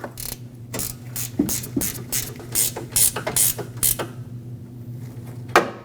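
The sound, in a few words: ratchet tightening bolt securing AC condenser, Nissan Frontier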